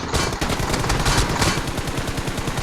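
Rapid automatic gunfire rattles in the video game PUBG, loud and continuous, with dense bursts of shots packed together across the whole moment.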